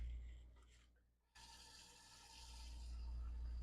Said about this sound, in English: we're going to put about 2 inches of water in